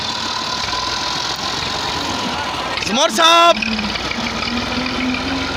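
A tractor engine idles steadily in the rain, a continuous low rumble with a brief rising whine partway through, while someone talks over it.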